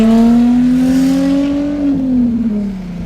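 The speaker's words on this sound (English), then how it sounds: "Exhaust is pretty loud here." A Nissan 350Z with a straight-pipe exhaust revs loudly nearby, its deep drone climbing in pitch, then easing back down as the engine settles.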